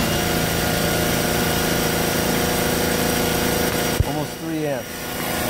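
An RC motor spins on a dyno test rig with a steady high-pitched whine that drops away near the end, with speech over the slowing motor.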